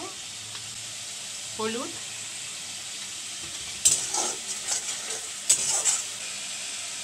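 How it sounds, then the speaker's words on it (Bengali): Sliced onions frying in a pan with spices, a steady quiet sizzle that grows louder with sharp crackling bursts in the second half, heard up close, with a brief voice near the start. "তো এই যে 2 মিনিটের মতো একটু ভেজে নেব, যতক্ষণ এই পেঁয়াজের কাঁচা গন্ধটা থাকে।"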